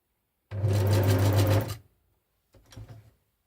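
Sewing machine stitching fabric ruffles, the needle going down and up: one quiet, steady burst of rapid stitching lasting just over a second, a short pause, then a fainter, briefer run.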